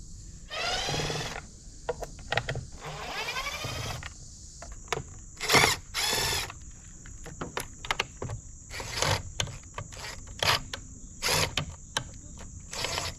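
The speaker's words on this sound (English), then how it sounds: "So I had to get myself an extended screwdriver to get in there." An extended screwdriver working screws on a Minn Kota Ulterra trolling motor: several short bursts of ratcheting clicks and metallic scraping, close and intermittent, separated by quiet gaps.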